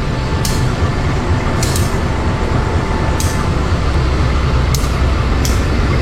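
Walahar local train hauled by a CC201 locomotive at the platform, a steady loud idling rumble with occasional short hissing bursts, close by, with no talk.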